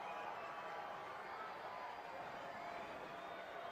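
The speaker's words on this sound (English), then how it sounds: "this big AF crowd going to try to make some noise" Large crowd at a high school state tournament football game between American Fork and Lone Peak, a steady, dense roar of massed voices and noise holding at an even level throughout, broad and diffuse like a packed stadium.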